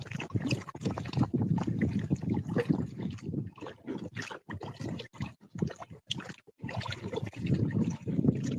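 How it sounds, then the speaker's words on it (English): Strong wind buffeting a microphone out on the water while kayaking, a continuous rough roar with gusty surges and brief lulls, paddle splashes mixed in. "this wind is strong"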